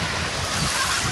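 Ocean surf rolling onto a beach, a steady broadband wash of breaking waves with wind buffeting the microphone, loud and continuous throughout.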